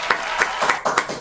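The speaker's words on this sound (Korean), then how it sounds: "박사님 박수 한번 주십시오." A few people in an interview setting give quick rhythmic applause, about half a dozen close, crisp claps in a short burst.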